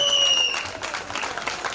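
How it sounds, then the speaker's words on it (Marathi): An audience claps at a Ganeshotsav cultural program of Marathi songs, a brief burst of crowd applause. A high sustained whistle-like tone sounds at the start, then fades into the clapping. "जोरदार टाळ्या"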